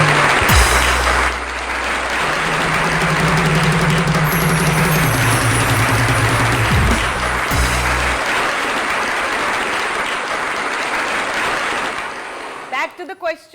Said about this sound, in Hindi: नासिर काज़मी साहब के लिए बहुत सारी तालियां।